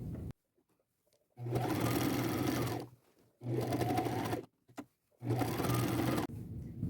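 A sewing machine runs a quarter-inch seam along flannel in three steady bursts of a couple of seconds each, with short quiet pauses between them, close and loud.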